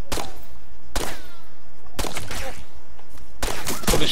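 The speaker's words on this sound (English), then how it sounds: "I'm gonna shoot inside there." Video game gunfire rings out in four loud separate bursts about a second apart, each sharp crack trailing into echo, with no talk over it.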